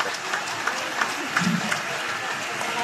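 A crowd at a Philippine rally applauds for Senator Imee Marcos, a steady wash of clapping mixed with murmuring voices throughout.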